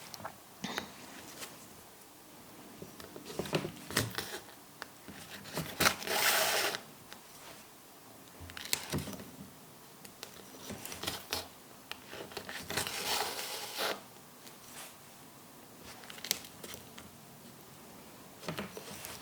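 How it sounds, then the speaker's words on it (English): A leather clutch bag is hand stitched with a double-needle saddle stitch, giving soft repeated pulls and rasps of thread through leather in an uneven rhythm with short bursts of rustling. "You can now use your double hand stitching and actually stitch that tab onto your bag."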